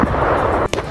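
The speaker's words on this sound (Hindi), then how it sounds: "जिससे जोरदार धमाका हुआ।" A missile strike on Ukrainian military positions in Russia–Ukraine war news footage, heard as a loud, sustained roaring blast that fills the clip, then briefly drops away and returns with a short sharp burst near the end.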